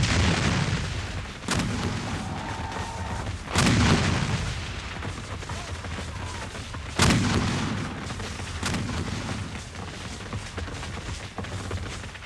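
Civil War artillery fire from Federal guns posted near a farmhouse: repeated deep booms at irregular intervals over a constant rumbling din of battle, heavy and fairly close.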